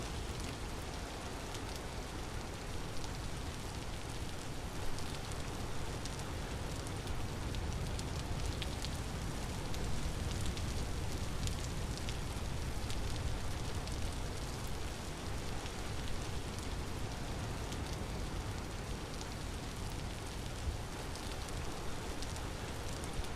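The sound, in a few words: rain falling in video game Vintage Story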